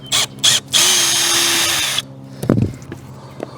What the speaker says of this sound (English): stick your bit down in it, like that, and just spin it right out